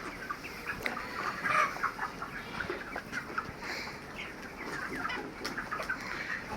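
Broiler chickens on an open-air farm with every side open, clucking softly and steadily all around at close range, a low murmur of the resting flock with no talk.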